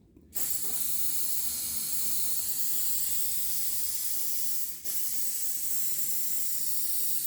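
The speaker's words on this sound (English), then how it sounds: "it's really good using hairspray" Hairspray is sprayed onto model tree foliage as a long, loud, continuous aerosol hiss, with a brief break partway through before spraying resumes.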